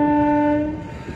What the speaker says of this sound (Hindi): और ये हमारा ट्रेन निकल पड़ा है। पूरा लंबा ट्रेन है बे